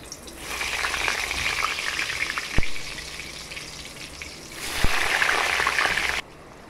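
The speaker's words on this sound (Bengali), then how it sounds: "আলুগুলোকে লাল লাল করে ভাজতে হবে।" Salted potatoes drop into a wok of hot oil with black cumin, bursting into a loud bright sizzle with a couple of sharp knocks before cutting off abruptly.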